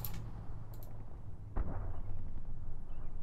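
Artillery barrage in the wargame Combat Mission: Cold War, with low rumbling blasts and one heavier boom midway, rolling on as a distant booming under quiet background.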